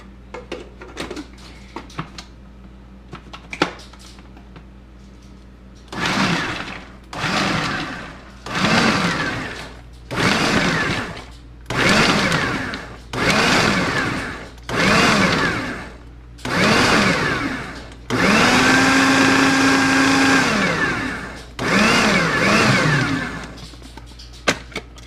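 A food processor mincing sausage chunks for sausage rolls, running in about nine loud bursts of a few seconds each, with short pauses between them and one longer run near the end.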